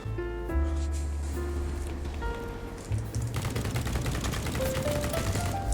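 Ultimax 100 light machine gun fire in the shooter game BattleBit comes as rapid automatic bursts. The dense rattle builds from the middle of the clip, with tonal game sounds ringing beforehand.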